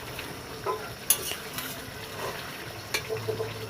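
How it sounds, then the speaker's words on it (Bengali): Chicken curry with garlic and green chilies stirred and sautéed in a pan, giving soft sizzling with scraping and clinking spoon strokes at irregular intervals, close and moderately loud. "তো এখন সব কিছু ভালো করে আমি কষিয়ে নেব।"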